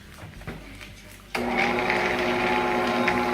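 A Bosch stand mixer starts up partway through, lid on, mixing a batch of cookie dough: after some quiet handling knocks, a steady motor whir kicks in abruptly and continues with a hum and rhythmic churning.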